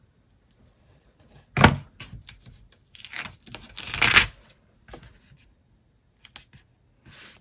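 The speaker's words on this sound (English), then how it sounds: "I'm going to trim off the excess here." Scissors trimming excess foam tape and card paper while making a handmade bridge card, a few close, crisp snips and rustling paper handling with pauses between cuts.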